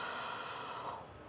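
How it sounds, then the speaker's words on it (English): A long, deep breath drawn in through the nose during a breathing exercise, one continuous close, soft airy inhale with no speech. "Deepest breath you've ever taken."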